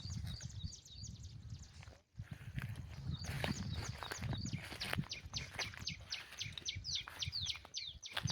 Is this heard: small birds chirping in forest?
yes